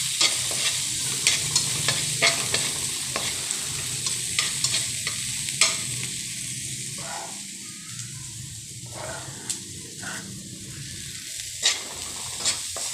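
Chopped onions sizzling in a hot pan, a strong steady crackle close up, with the spatula clicking and scraping against the metal at irregular moments throughout and no voices.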